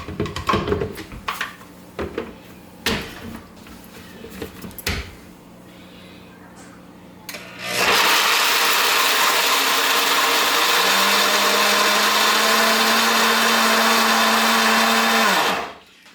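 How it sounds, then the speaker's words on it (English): After several clatters and knocks, a countertop blender roars to life at full speed, blending peanuts with a pinch of salt into a powder for about eight seconds before cutting off. "is we're gonna blend that until it comes together."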